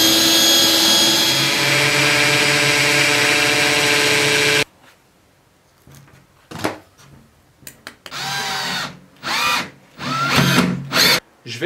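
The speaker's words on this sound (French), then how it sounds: "je vais préparer un pré-trou avec la mèche à bois, ensuite percer" A power drill with a wood bit whines continuously for several seconds boring a pilot hole into a wall, then cuts off, followed by short bursts of drilling and handling noises.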